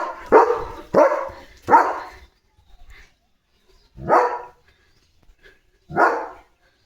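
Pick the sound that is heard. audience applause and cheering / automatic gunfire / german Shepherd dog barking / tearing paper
german Shepherd dog barking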